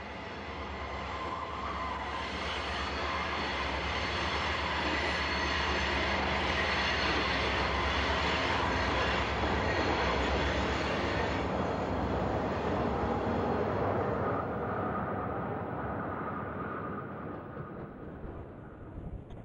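A southbound train rumbles past the Alexandria passenger station on the RF&P line, a loud, steady roar of rolling cars and wheels that holds for most of the stretch before fading at the end, with no voices.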